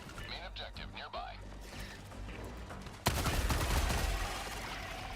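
Video game battle with thrown grenade blast and gunfire: a sudden loud burst around three seconds cuts in, followed by continuous crackling shots and rumble, with voices talking over the earlier part.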